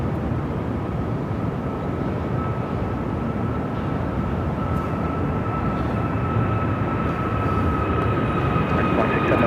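A regional jet rolls for takeoff at Phoenix airport with a steady, broad engine roar and a faint thin whine, heard from a distance with no voices.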